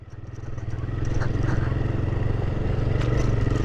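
A scooter engine runs close by on a hill road, a steady throbbing putter that swells a little in loudness after the first second and then holds even, with faint clatter above it.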